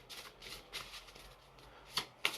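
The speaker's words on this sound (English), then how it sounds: "Just going to give these ones a really good shuffle because I use them way too much" A deck of oracle cards is shuffled at close range in soft, quick riffles and rustles, ending with two sharper snaps as the cards settle.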